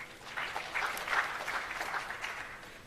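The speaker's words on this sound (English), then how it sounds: "Let's give you a round of applause" An audience at a launch event for technology centres of excellence breaks into applause, a steady moderate wash of clapping lasting a few seconds with no voices over it.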